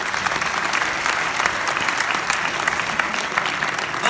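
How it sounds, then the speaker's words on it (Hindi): Loud, dense audience applause fills a large hall at a corporate leadership event for a network marketing company, a steady unbroken wash of clapping with no voices over it. "जोरदार तालियां चार लोगों के लिए होनी चाहिए"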